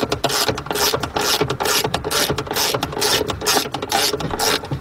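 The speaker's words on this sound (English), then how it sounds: "Let's go in here with our T50 socket, 3/8 drive, with our 3/8 drive ratchet." A 3/8-inch drive ratchet with a T50 socket turns a bolt on a 2008–2014 Cadillac CTS coupe's door latch area. It makes a loud, fast, continuous run of rhythmic ratcheting clicks, close up.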